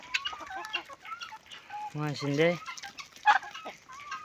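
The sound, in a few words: poultry clucking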